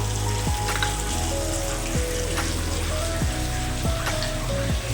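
Vegetables and fried spices sizzle in a hot pan while khichuri is being cooked, a steady close crackling hiss running throughout alongside sustained tonal sounds in the background.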